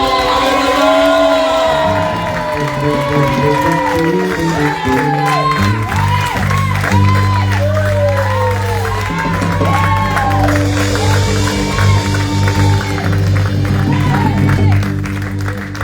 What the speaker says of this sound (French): donne-lui un bon amen, un bon alléluia, un bon applaudissement